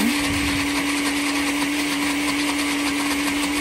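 An electric blender grinding peanuts with olive oil into dog peanut butter, a loud, steady motor whine with a constant pitch, churning continuously and close up, with no talk.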